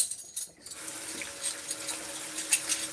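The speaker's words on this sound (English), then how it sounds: "I'm just draining off most of the water so I can get to the silverware." Water running and draining in a kitchen sink while dishes are washed, a steady soft gurgling flow with a faint low hum beneath, close by and without talk.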